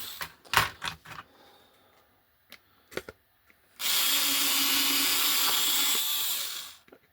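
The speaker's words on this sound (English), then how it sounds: "What I'm using to drill is a chuck that I bought on eBay to go in a powered screwdriver." A powered screwdriver fitted with a drill chuck bores holes during a 7/8th Sheffield wagon assembly, its steady whir running loud for about three seconds after a few scattered clicks and knocks.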